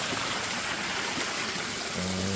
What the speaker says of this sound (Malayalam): പൊക്കത്തിൽ നിന്നും വെള്ളം ഇങ്ങനെ വന്ന് താഴേക്ക് ഒഴുകും